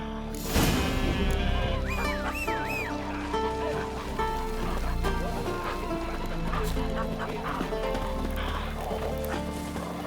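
Sheep and goats bleat repeatedly in The Witcher 3: Wild Hunt over a busy layered soundscape with music-like tones, the calls rising and wavering at moderate loudness.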